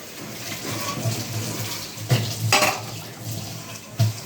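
Dishes being washed by hand at a home sink, with a steady rush of running water and several sharp clinks and knocks of pots and plates, heard close and alone.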